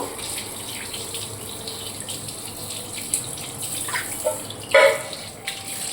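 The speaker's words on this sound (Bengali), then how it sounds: "তো আমি এখন এই ছোবাটাকে ধুয়ে নেব" A scrubbing sponge being rinsed under a running kitchen tap after scouring turmeric and kerosene stains from utensils, giving a steady faint water flow with brief louder splashes near the end.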